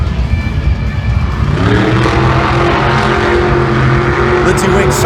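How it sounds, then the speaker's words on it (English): A Lucas Oil Crusader monster truck roars during a Monster Jam freestyle competition in a stadium, its engine a loud continuous growl that builds and revs over crowd noise and an announcer's voice. "Lindsay Wink drives Lucas Oil Crusader in the freestyle competition next."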